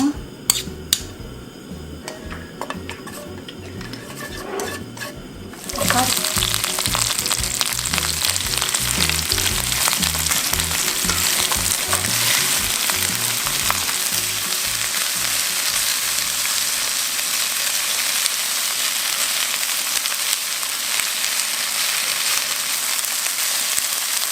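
Namul vegetables such as bellflower root and bracken stir-fry in cooking oil with garlic, a loud, steady sizzle that jumps in abruptly after a few seconds of quieter clatter and holds, with occasional utensil scrapes.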